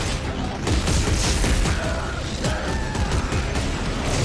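Gunfire in the video game Dead Space 3 crackles in a dense, continuous barrage under loud game noise and rumble, with sharp shots dotted through the steady din.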